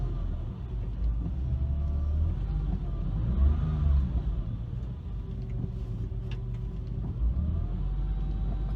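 A Porsche GT3 with semi-solid engine mounts fitted drives along, its engine rumbling low and steady, rising and falling gently as the revs climb past about 2,000 RPM, heard from inside the car without talk.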